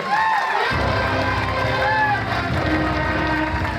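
Audience at a college day function claps and cheers, a dense, loud wash of applause with scattered shouts rising suddenly and continuing steadily to the end.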